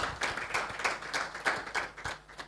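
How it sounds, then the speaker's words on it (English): A round of audience applause at a conference session, moderately quiet and fairly rhythmic clapping that pulses evenly throughout. "So let's just give them another round of applause"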